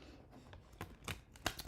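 Tarot cards are shuffled in a few soft, quick riffles and taps, faint and close, with no voices.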